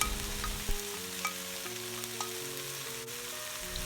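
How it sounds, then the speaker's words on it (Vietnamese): Pork and shrimp stir-fry in a hot pan for clear dumpling filling, a steady close sizzle with crackling spatters and a few scraping stirs, no voice over it. "Mình sẽ cho phần tôm vô luôn nha."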